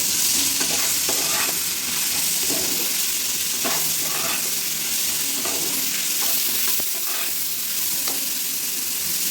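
Chopped onions fry in oil with bay leaf, dried chili and cumin in a kadai, a steady sizzle broken by repeated scraping strokes of a spoon as they are stirred, no talking.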